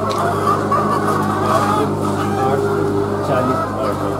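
Caged layer hens cluck steadily in a poultry egg farm, a dense, continuous flock murmur with a low mechanical hum beneath, heard alone without talk.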